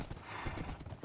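Horse hooves clip-clopping in the Minecraft video game, a quick run of soft rhythmic thuds close by with no talk over them.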